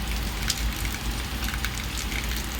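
Steady rain pattering on a surface in Jalgaon, a dense continuous hiss with scattered drops, fairly close and even throughout.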